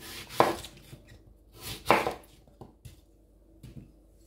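Skin-on apples are sliced with a knife on a cutting board: two sharp, loud cuts a second and a half apart, then three or four softer taps spaced out afterward, close and with no talk.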